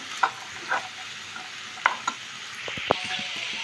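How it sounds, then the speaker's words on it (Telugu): Cut potato pieces with green chillies being stirred in a frying pan, soft sizzle under a few distinct clanks and scrapes of the spoon against the pan. "ఆలు మొత్తం వేసేసి కలుపుకోవాలి"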